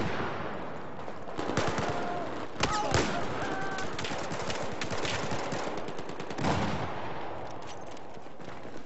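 The XM25 weapon fires in Battlefield 4 amid loud, rapid bursts of gunfire and sharp blasts across a chaotic battle, with a voice talking over parts of the action.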